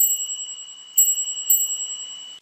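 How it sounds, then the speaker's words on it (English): A bicycle bell on a City Robin X+ ebike rings twice in quick succession, a bright metallic ding with a lingering shimmering ring, close and clear with no talk. "We also have a really nice bell."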